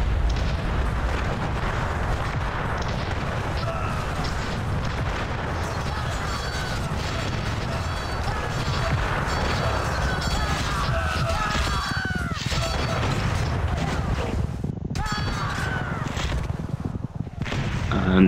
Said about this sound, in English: You saw a lot of his troops however get blown up.